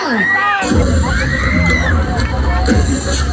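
A crowd at a Christmas tree lighting in Bulakan cheers and shouts, children's high voices whooping over a dense roar of babble and clapping, loud and close, with a bang or two.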